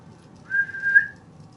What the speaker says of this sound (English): Now can you whistle?